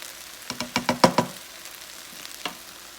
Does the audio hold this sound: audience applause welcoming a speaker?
no